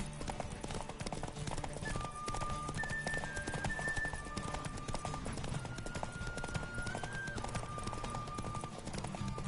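A horse gallops steadily in The Witcher 3: Wild Hunt, a continuous rapid clip-clop of hooves under a dense game soundscape with sustained musical tones, loud and unbroken throughout.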